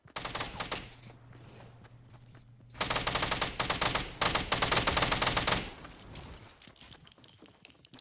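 Rapid bursts of automatic gunfire crackle in a video game, with dense rattling volleys separated by brief pauses and one long sustained stretch of firing.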